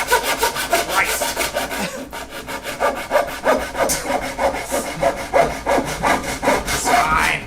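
Handsaw cutting wood pieces oversize for an acoustic guitar build in a home garage, steady rhythmic rasping strokes close up, pausing briefly near the two-second mark before resuming at an even pace.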